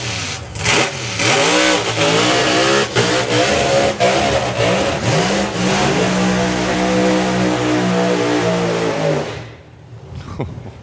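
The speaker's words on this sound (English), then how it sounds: "2 very different ways of doing burnouts and pro mods, I think that was." Pro mod drag racing cars doing burnouts at the FIA/FIM Euro Finals drag racing event give a loud, sustained engine roar with rising and falling revs for about nine seconds, then it fades away.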